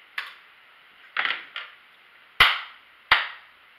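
Cup song rhythm played slowly with four cups: five sharp isolated hits spaced out, hand claps and cup taps against a table, close and crisp with silence between.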